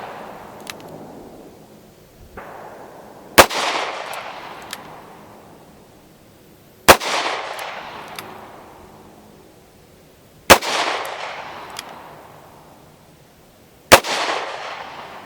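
A Ruger LCR 9mm revolver fires four sharp, loud shots spaced about three and a half seconds apart outdoors, each crack followed by a long echoing decay, with fainter pops and clicks in between.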